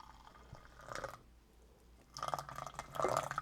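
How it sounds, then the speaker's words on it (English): Quiet trickling and splashing of hot water being poured for hot chocolate with espresso powder, in two short bursts with a pause between them, close by. "Add a little bit more hot water."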